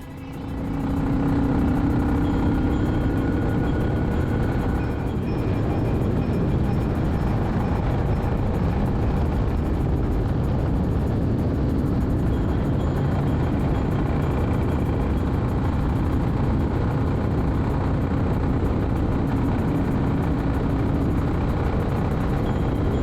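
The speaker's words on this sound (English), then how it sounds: "here's third gear round Quarry Corner, and you can see here it pulls well, pulls right up to 65 in third if you want to rev it." A Royal Enfield Classic 350 motorcycle with a 16-tooth gearbox sprocket pulling hard in third gear around a coastal bend, its steady engine drone and rumble loud and continuous throughout, with wind buffeting over it and no talk.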